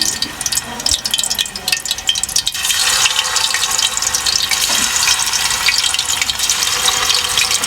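Kofta meatballs made with beef fry in ghee in a wok over low heat, giving a loud, steady, crackling hiss that swells after a few seconds and holds on without talk.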